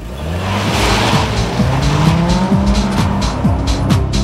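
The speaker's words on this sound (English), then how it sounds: "This is the all-new Chrysler Crossfire." A Chrysler Crossfire sports car drives hard, its engine revving up and shifting repeatedly while the tires squeal continuously. The sound is loud and close.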